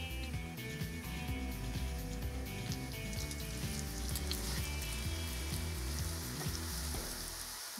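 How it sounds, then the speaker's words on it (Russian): Pancake tubes stuffed with liver fry in vegetable oil, giving a continuous dense sizzle with scattered pops and crackles at a steady, moderate level and no voices. "Теперь я их обжарю на растительном масле."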